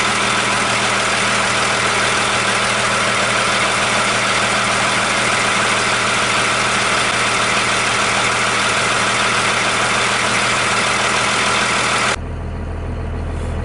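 A Dodge Cummins 5.9 diesel pickup idles close by, a loud, steady rumbling clatter that runs unbroken for about twelve seconds before the tone shifts lower.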